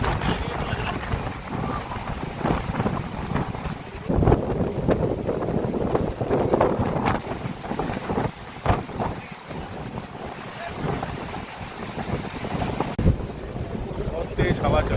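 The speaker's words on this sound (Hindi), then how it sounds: "बहुत तेज हवा चल रही है" Strong wind gusts roar and buffet the microphone on a Himalayan mountain road in Spiti, a dense, continuous rushing blast that surges and dips for the full fifteen seconds.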